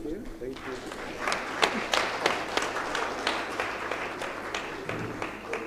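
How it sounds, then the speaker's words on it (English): Audience applause at the 39th AEAA annual conference following a presentation, a sustained field of hand claps with some louder claps standing out, steady and moderately distant throughout. "A round of applause for her, please"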